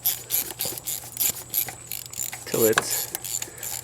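A 1/4 inch ratchet with an extension and a 5/16 socket snugs a bolt while a Corvette water pump is installed. It makes bursts of quick close clicks, with a few words spoken briefly.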